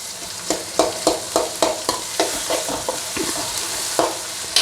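Tomatoes fry in hot oil for a Telugu fish gravy while a spoon stirs them in a regular rhythm, each scrape knocking over a close, steady sizzle.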